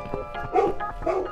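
A dog barks and yips a few times in the video game The Cat Lady, close and fairly loud, with a faint voice mixed in under the barks.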